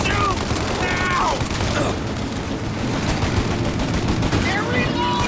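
Dense gunfire rattles through a Mafia: Definitive Edition shootout, bursts and single shots piling into a loud, continuous barrage with no pauses.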